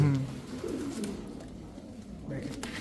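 A racing pigeon coos close by in low, throaty rolling calls, with a faint voice in the background.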